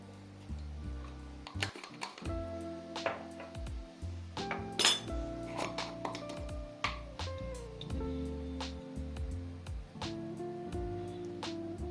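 A spoon clinks repeatedly against metal and glass while coriander powder is added to a potato dish, with sharp, bright taps and rattles close by, scattered across the clip without speech.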